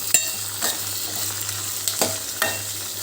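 Tomato and onion sauté in a pan, a steady close sizzle with a few sharp scraping stirs spaced about half a second apart.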